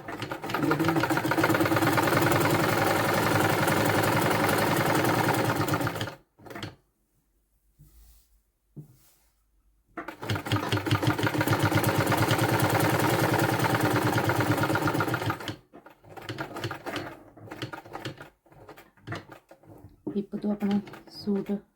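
A sewing machine stitches a seam while a suit is taken in, running loud and close in two long steady bursts separated by a few seconds of quiet handling, then short intermittent runs at the end.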